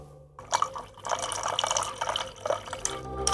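Water poured into a glass, with irregular drips and splashes that build into a continuous trickle of filling liquid, close and fairly clear.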